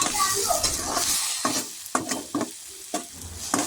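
Snake gourd curry with turmeric, spices and a little sugar being sautéed in a pan, a soft sizzle broken by several sharp, irregular scrapes and clacks of the stirring spoon against the pan.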